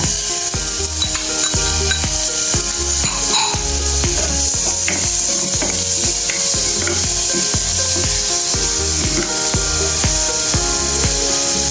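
Garlic and onion fry loudly in a pan for noodles, a continuous bright sizzle with a rhythmic scraping of a spatula stirring against the metal, close up and with no voices.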